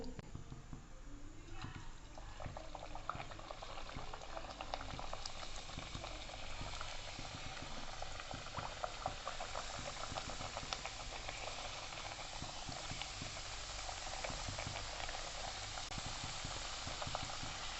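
Steady, dense bubbling sizzle of golgappa puris made from semolina frying in hot oil in a kadai, continuous and fairly close throughout, with no talking.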